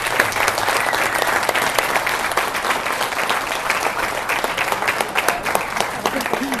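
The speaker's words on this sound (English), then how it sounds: "I think we should just give them a round of applause." Sustained applause from an audience at a real estate company breakfast, honoring two retiring agents; dense, steady clapping fills the whole stretch with a faint murmur of voices underneath.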